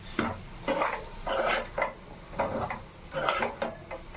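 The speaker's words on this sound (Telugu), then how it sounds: "ఫైనల్ టచ్ మనం ధనియాల పొడి వేసేసుకుందాం. లైట్ కలిపేసుకుందాం." Aloo fry, potatoes dusted with coriander powder, stirred in a pan with a spoon, giving a series of rhythmic scraping strokes about twice a second, close and moderately loud with no voices.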